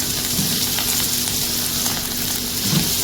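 Smash burger patties fry in ghee on a hot surface, a loud continuous sizzle close up with a few light stirring or scraping touches.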